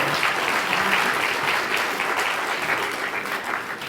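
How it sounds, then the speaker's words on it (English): A keynote audience at a sales talk claps for volunteers coming up on stage, a full, steady round of applause heard close and continuous, easing slightly toward the end. "Let's give them a big round of applause."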